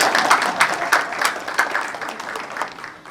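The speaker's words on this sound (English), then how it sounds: "And give ourselves a round of applause." A small audience rising and giving a round of applause at a press conference, the clapping loose and uneven, with a few louder bursts, then thinning out over about three seconds.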